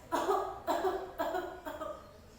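Four repeated coughs, evenly spaced about half a second apart, close and fairly loud, with no talking.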